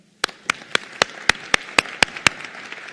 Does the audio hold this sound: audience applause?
yes